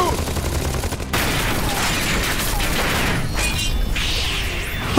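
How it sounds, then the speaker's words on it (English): Rapid bursts of gunfire and mechanical blasts from an animated action show about battling monster karts, dense and continuous across the clip with a sharp break near one second. "Go ahead, shoot!"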